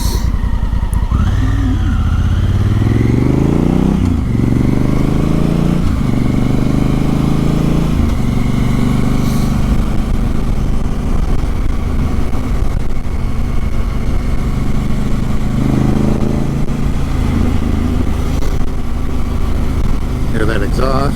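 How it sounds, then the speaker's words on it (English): A 2017 Honda Africa Twin motorcycle fitted with an aftermarket exhaust, its engine revving and accelerating through several rising gear pulls, loud and close throughout the clip, with a deep, throaty exhaust note and a steady motor drone between pulls. "Hear that exhaust? That's the Hyperprovic exhaust."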